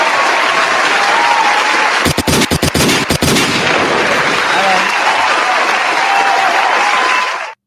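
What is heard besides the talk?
audience applause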